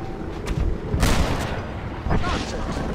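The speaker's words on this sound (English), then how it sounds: "You can shoot crates of TNT to set them off." Crates of TNT blow up after being shot in Red Dead Redemption: two heavy booming blasts, the first loud and rolling, the second shorter, over a noisy backdrop of gunfire and faint voices.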